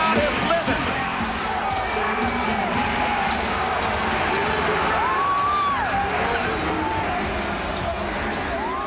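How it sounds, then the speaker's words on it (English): A wrestling arena crowd roars and cheers in a steady, distant wash of voices with scattered whoops and yells, while a commentator talks over it. "This crowd is living."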